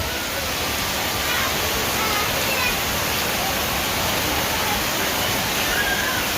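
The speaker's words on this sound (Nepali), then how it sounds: "पानी आयो गाइज।" Heavy rain pours down in a steady, dense roar, loud and continuous with no break, close around the listener.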